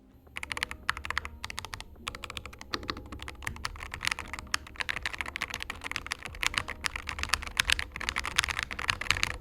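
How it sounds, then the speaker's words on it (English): Close-miked typing on a computer keyboard captured with a Fifine AM8 microphone held directly above the keys, a dense, steady stream of crisp clicks and clacks for about ten seconds, with no voices. "Now I'm gonna point the microphone directly on top of my keyboard to simulate ASMR gaming videos."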